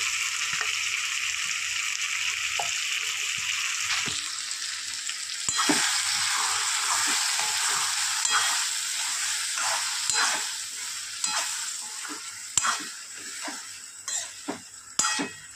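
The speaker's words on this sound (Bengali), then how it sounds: "মটরটা খুব ভালো করে মিক্স করে দিয়েছি" Boiled peas get stirred into fried masala for ghugni, a broad hissing sizzle running throughout while spoon scrapes and knocks against the pan grow more frequent toward the end; close, no voices.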